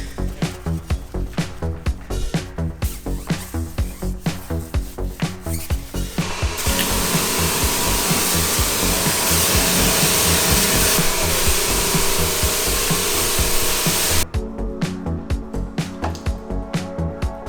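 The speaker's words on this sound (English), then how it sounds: "Right now we're going to be working on the decontamination of the vehicle." A car being washed for paint decontamination before full-body paint protection film, heard as rhythmic scrubbing and rubbing strokes with a long continuous hiss of spraying water or air in the middle.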